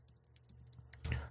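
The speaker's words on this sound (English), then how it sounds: "I'm typing away over here" Rapid keyboard typing, close up, with a louder flurry of keystrokes near the end and a low hum underneath.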